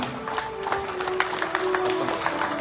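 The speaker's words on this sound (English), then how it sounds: "I think we can give a tremendous round of applause to our honorable minister" An audience claps in applause for an honorable minister at a Rotary gathering, a sustained patter of many hands with sharper individual claps standing out, moderately loud.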